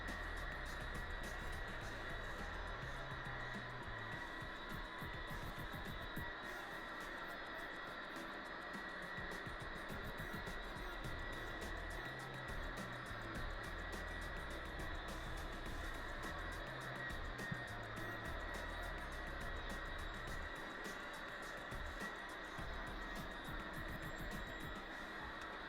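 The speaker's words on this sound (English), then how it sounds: "just use the vacuum to get everything up" A vacuum cleaner runs steadily while cleaning a sofa in a Manhattan apartment, a constant whining drone with faint shifting rumbles as the nozzle moves over the upholstery, sustained throughout.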